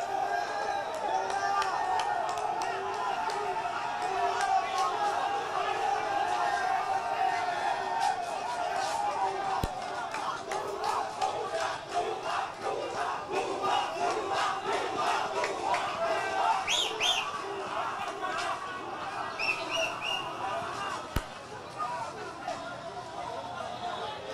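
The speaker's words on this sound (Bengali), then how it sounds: "এখানে বিক্ষুব্ধ জনতা তারা স্লোগান দিচ্ছেন" An angry crowd chants slogans at a street protest in Bangladesh, a dense, continuous roar of many voices rising and falling in rhythm, with scattered shouts and whistles over the top.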